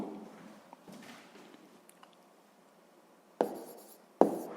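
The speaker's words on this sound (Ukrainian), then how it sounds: "записуємо це число" A pen scratches out a number by hand on paper in a few short strokes, followed by two louder, sharper taps or scrapes near the end, close and quiet with no talk.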